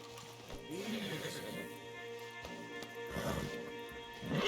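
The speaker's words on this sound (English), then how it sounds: "Marston, you're gonna tether him up to Javier's horse." A horse whinnies loudly in Red Dead Redemption 2 over a low background rumble, followed later by a second neigh, with faint hoof clatter in between.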